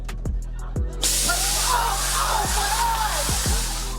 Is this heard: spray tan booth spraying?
yes